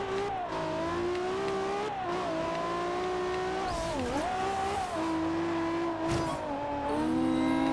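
Car engine revving and shifting through gears during a wet-weather race in the video game Forza Horizon 2 on Xbox One, a steady loud engine drone with rising and falling pitch and brief gear-change dips.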